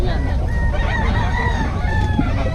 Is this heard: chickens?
yes